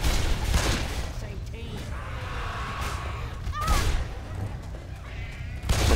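Gunfire in Left 4 Dead on the Dead Center campaign, with repeated bursts and shots scattered through the clip under a busy game mix, while players talk over the action.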